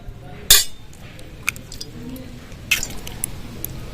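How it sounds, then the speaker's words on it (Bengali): Sharp crack of a raw egg against a bowl rim in a kitchen, made while cooking a Bengali sweet pumpkin and egg dish, followed by a faint second tap and soft clinks, with no talk. "ডিমটা এবার ফাটিয়ে নেবো"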